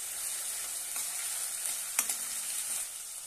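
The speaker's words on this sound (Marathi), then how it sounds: "अर्धा चमच आलं लसणाची पेस्ट घालूया। छानपैकी परतून घेऊया।" Ginger-garlic paste sautéing in a hot pan for a dry flat bean and potato dish, a continuous soft sizzle with light stirring scrapes and a brief utensil tap midway.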